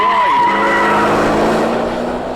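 A Ford GT40 slides through a corner on a race track, its tyres squealing in a loud, sustained skid over the high engine note, which drops in pitch as the car scrubs wide.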